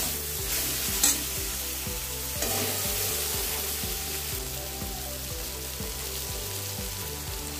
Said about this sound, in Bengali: এবার দিয়ে দিচ্ছি লবণ, হলুদ, ভালো করে কষিয়ে নিতে হবে